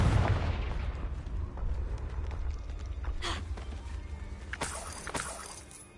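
A Confringo fire curse bursts in Hogwarts Legacy, a loud blast up front followed by sharp crackling bursts and a fading rumble, with no talk over it.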